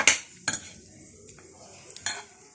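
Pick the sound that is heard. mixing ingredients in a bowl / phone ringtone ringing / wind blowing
mixing ingredients in a bowl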